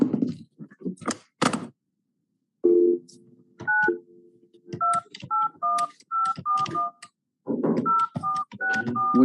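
Telephone keypad tones beep out a number in a courtroom, a quick run of short, clear dialing tones in uneven clusters, preceded by brief rustling and a muffled voice.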